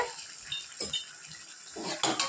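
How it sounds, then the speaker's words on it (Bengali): Stirring vegetables in a pan with ground coriander and cumin, for a pumpkin-greens and chana dal dish: soft utensil scrapes and clinks near and moderately loud, with a couple of sharper knocks, no talk. "আমি সবজিটা ভালো করে নাড়িয়ে নেব।"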